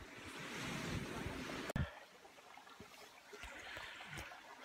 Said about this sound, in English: So we're at Sealy Beach.